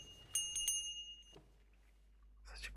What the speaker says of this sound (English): Such a quiet bell.